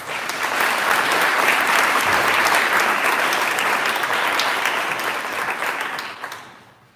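Loud, close crowd applause at the Canistota 2025 awards night after an all-conference team is announced, a dense steady clapping that swells early and then tapers off near the end.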